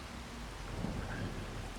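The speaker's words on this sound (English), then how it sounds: "It is definitely raining now." Rain falls in the game Farming Simulator 25, a steady, soft, broadband hiss with a low rumble under it and no talk.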